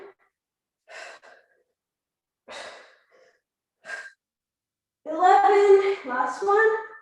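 Heavy, forceful breaths during a strength workout, several short puffs spaced about a second apart, then a longer voiced exhale or groan with a strained, tonal quality near the mic.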